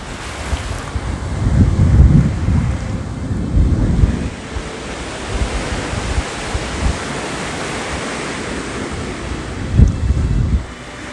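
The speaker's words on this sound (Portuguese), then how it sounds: "Olha esse mar, irmãos." Sea waves break and wash along the shore under steady gusting wind, a loud continuous roar with surges of surf and no talking.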